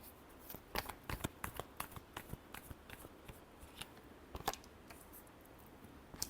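Tarot cards are shuffled up close in quick, irregular flurries of crisp slaps and riffles, fairly quiet with no voice.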